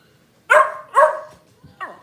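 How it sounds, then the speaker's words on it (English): Dogs, a Shih Tzu and a Puggle, let out three close, loud barks, two in quick succession and a shorter third after a brief pause. "That's my dog."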